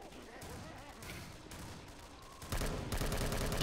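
Rapid gunfire in Left 4 Dead 2 as several players shoot at a Smoker, a steady rattle of shots that swells louder partway through with more weapons joining in.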